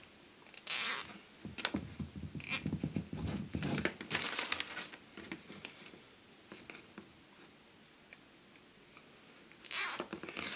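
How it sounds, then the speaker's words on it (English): Zip ties being pulled tight around wires, giving several quick ratcheting zips in bursts over close rustling and handling noise, with a final sharp zip near the end. "now we can strap those together with some wonderful zip ties"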